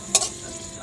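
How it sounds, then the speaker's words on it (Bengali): Whole spices—cumin, clove, cinnamon, cardamom, dried chilli and bay leaf—hit hot oil with a sharp burst of sizzle that quickly settles into a faint crackle. "একটু জিরে ফোড়ন দেব, এই যে লবঙ্গ, দারচিনি, এলাচ দিয়ে দেব, শুকনো লঙ্কা দেব"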